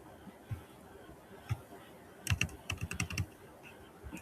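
Keys clatter on a computer keyboard as Java code is typed, with a few isolated taps followed by a quick burst of clustered keystrokes, close and fairly crisp under a quiet room background.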